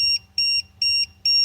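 A handheld RC battery voltage checker gives four evenly spaced, shrill electronic beeps in quick succession, loud and close over a low background hum.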